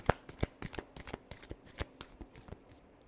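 A deck of cards is shuffled up close in a final tarot shuffle, giving a rapid string of crisp riffling slaps and flutters, loud and alone with no talk.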